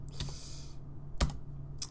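A few isolated keystrokes on a computer keyboard while coding in Minecraft: a single close tap, a firmer click about a second later, and one lighter tap near the end, over a low steady hum.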